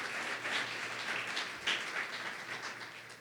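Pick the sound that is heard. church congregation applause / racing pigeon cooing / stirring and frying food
church congregation applause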